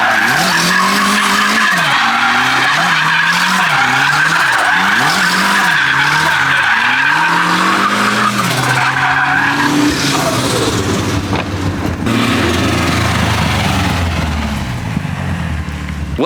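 A race car with a 450 foot-pounds of torque engine skids and squeals its tires in long, wavering screeches, rising and falling over the loud engine roar, then easing into a smoother drive near the end.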